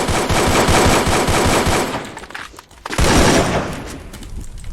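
AK rifle gunfire in Free Fire, rapid automatic bursts loud and close for about two seconds, a brief lull, then another dense burst that tails off into scattered shots.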